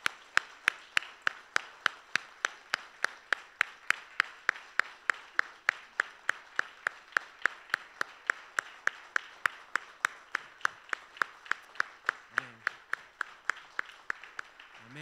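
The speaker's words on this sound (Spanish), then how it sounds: "Dale un aplauso fuerte." A crowd claps in steady unison at a church concert, sharp evenly spaced claps about three per second for the whole stretch, moderately close.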